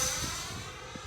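A Freewing MiG-29 RC jet flies past on throttle with its gear up, heard as a faint, distant, steady whine that holds evenly throughout.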